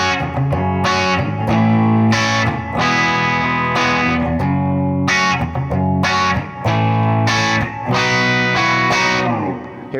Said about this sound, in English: So here's the edge of breakup sound.